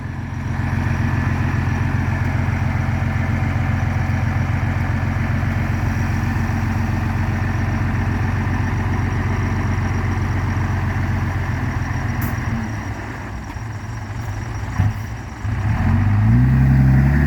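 A tractor engine drones loudly and steadily under heavy load while pushing a pink vehicle, dips briefly, then surges and climbs in pitch near the end.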